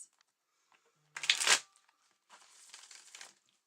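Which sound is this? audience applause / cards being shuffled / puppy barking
cards being shuffled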